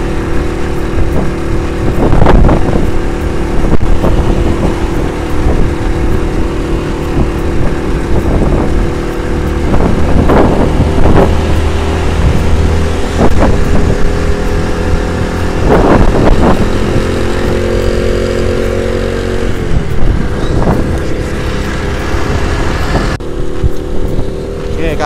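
1997 Suzuki Shogun motorcycle engine labouring slowly uphill in second gear on a foggy road, a loud steady drone close up with small rises and dips in revs throughout.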